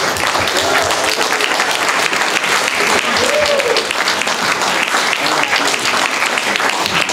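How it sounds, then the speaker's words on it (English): Seminar attendees give a sustained round of applause, loud and dense clapping that holds steady throughout, with scattered voices and a whoop over it. "Let's give Ed a round of applause."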